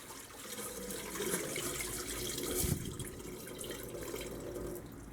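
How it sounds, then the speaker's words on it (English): Tap water is poured off gold-filled metal scrap in a container, a steady, fairly quiet stream of trickling and splashing liquid heard alone throughout. "We're going to pour off the tap water here"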